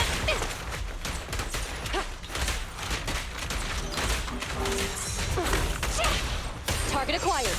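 Sustained automatic gunfire in the Zenless Zone Zero video game, rapid shots and impacts rattling continuously under clanking mechanisms and whooshes, with a voice speaking over the action.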